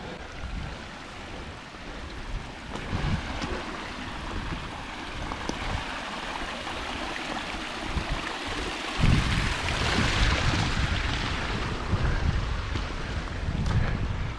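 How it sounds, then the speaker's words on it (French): Meltwater running everywhere down a mountain slope beneath rocky peaks, a steady broadband rush of flowing water mixed with wind buffeting the microphone, growing a little louder and brighter in the second half. "Ah, l'eau coule de partout là."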